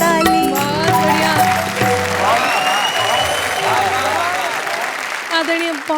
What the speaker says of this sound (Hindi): बजाओ मिलकर ताली।